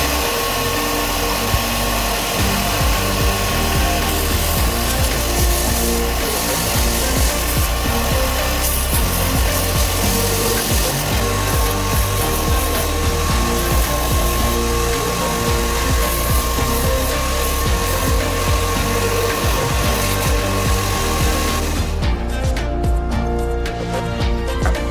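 Power sanding of a wooden three-piece jointed swimbait lure for Murray cod, a steady loud whirring grind that runs continuously and alone, changing tone near the end.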